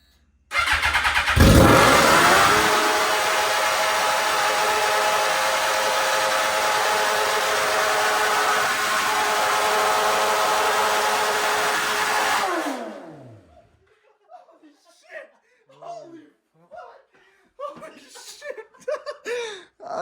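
A Suzuki GSX-R 1000 motorcycle engine runs rough at a loud, steady idle for about eleven seconds, then cuts out abruptly, leaving people talking and laughing nearby.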